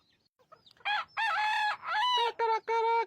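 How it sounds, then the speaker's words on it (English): A rooster crows nearby in a farm flock, one full cock-a-doodle-doo in several loud, harmonic bursts over about two seconds after a few faint clucks, with no speech over it. "Did you know they close their ears when they crow?"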